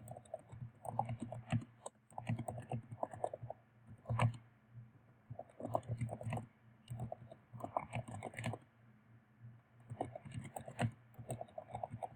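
Rapid, irregular clicking of keys on a computer keyboard as someone types text, close and clear, in bursts with short pauses and no talking.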